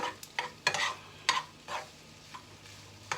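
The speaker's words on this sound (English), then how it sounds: "So you want this on kind of high heat because the egg has to cook." Egg being stirred in a pan over high heat: a soft, steady sizzle of frying under several short scraping strokes of a utensil against the pan, close, with no talking.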